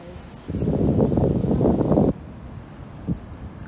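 Wind on a moist, windy beach buffets the microphone in one loud, roaring gust lasting about a second and a half, then eases back to a low background hiss.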